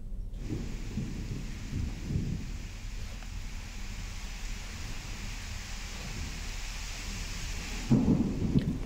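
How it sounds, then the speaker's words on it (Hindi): A thunderstorm with rain: a constant hiss of falling rain under low rolling rumbles of thunder, ending in a sharper, louder crack near the close. "अनूपपुर में अचानक से मौसम बदल गया आंधी तूफान के साथ बारिश हुई"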